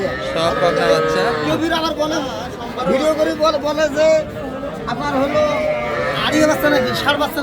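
Heifer calves at a busy cattle market moo in drawn-out, wavering calls, partly buried under loud crowd chatter and people talking nearby.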